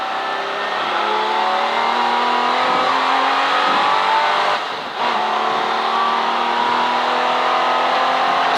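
A V12 race car howls around the Silverstone circuit, heard from on board as a loud, sustained engine wail whose pitch climbs steadily through the gears, with a brief dip near the middle before it picks up again.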